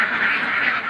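Laying ducks in a caged egg farm quack in a dense, continuous chorus, many birds calling at once, loud and close.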